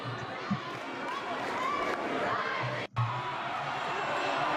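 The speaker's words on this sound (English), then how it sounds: "The crowd getting pretty rowdy tonight." Rowdy crowd at a high school basketball game between Abilene High Eagles and Wylie Bulldogs: a dense, continuous roar of shouting and cheering fills the gym, with voices talking over it and a brief dip near the three-second mark.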